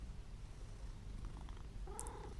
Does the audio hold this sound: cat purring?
yes